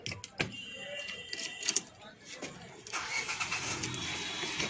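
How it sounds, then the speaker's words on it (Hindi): A Ford Figo with an aftermarket CNG kit fitted, its engine cranking and catching after a few clicks and rattles, then settling into a steady mid-pitched idle nearby while someone talks over it. "और इंजन स्टार्टिंग में मैं आपको दिखा दूँ"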